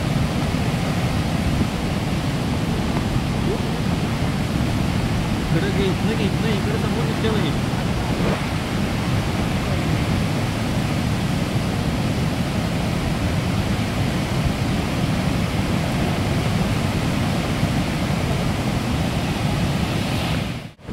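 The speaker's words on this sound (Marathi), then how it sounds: "बंधाऱ्याच्या वरनं पाणी पडायला लागलं" A flooded river pours over a weir in Kolhapur, a dense, unbroken roar of rushing water that holds steady throughout while someone talks briefly over it.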